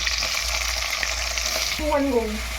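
Onions frying with whole spices and chillies in a pan for a tadka, heard as a loud, continuous close sizzle with stirring and a short tonal squeak toward the end.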